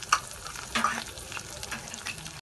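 Capsicum stirred and frying in a hot pan for schezwan fried rice, with a constant sizzle broken by a few sharp scraping strokes of the spatula and a brief cut at the end.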